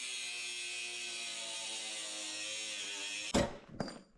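A power tool cutting metal pieces for a shipping-container cabin modification, a steady high whining grind held for a few seconds before stopping with a couple of clunks, fairly faint overall.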